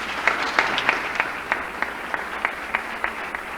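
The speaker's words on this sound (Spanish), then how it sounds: "eu peço uma salva de palmas." Scattered audience applause at a religious gathering, a sparse group clapping with a few distinct louder claps standing out at a loose, uneven rhythm.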